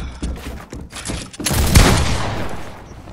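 A close, loud volley of gunshots in a Fortnite match, scattered shots building into a dense cluster with a heavy boom near the middle before trailing off.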